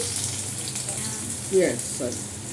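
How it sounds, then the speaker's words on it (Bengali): Chopped tomato dropped into hot oil crackles and sizzles in a steady frying hiss, with a brief louder burst midway and a voice speaking over it. "এই টমেটো কুচিটা দিয়ে দিচ্ছি"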